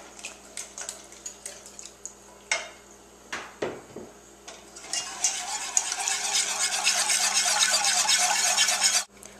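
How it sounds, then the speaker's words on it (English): Homemade chicken stock whisked into gravy, first in separate clinking strokes against the pan, then a dense continuous whisking hiss that cuts off abruptly. "I'll just add a little bit at a time so that I can make sure it all gets whisked in nicely."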